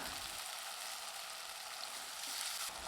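Tomatoes sauté in hot oil in a pan with a steady, dense sizzle that holds at an even level throughout, with no voices over it.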